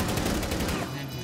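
Gunfire in Rainbow Six Siege comes as a loud, rapid burst of automatic shots that fades slightly toward the end, with voices partly underneath.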